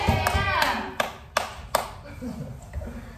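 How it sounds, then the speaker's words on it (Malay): A handful of sharp, separate hand claps from a classroom of children applauding a pupil, spaced irregularly over steady talk. "tepuk tangan untuk Steffi semua"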